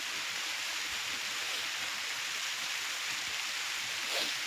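Light, steady rain falls in a farm field during the rainy season, a continuous soft broadband hiss with no breaks and no voices.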